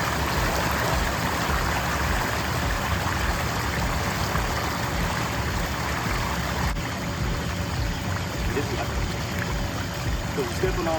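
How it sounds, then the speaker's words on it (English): Feet pressing on an inflatable water slide force trapped water out in a steady, rushing gush that stays loud and unbroken throughout, close by. "Here we're going to step on it, get the water out of there."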